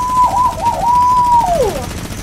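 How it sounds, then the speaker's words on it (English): A minigun fires in the video game Fortnite. A sustained, loud whirring tone wavers and warbles, then bends downward near the end. "Minigun, minigun."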